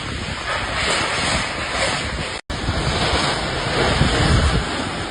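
Strong, roaring tornado wind sweeps through a street in East Java as debris and house roofs fly, a continuous, loud broadband rush buffeting the microphone with one brief dropout midway.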